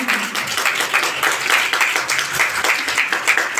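A church congregation at a prayer meeting clapping together, a loud, close, continuous patter of many hands with a slightly uneven rhythm and no break.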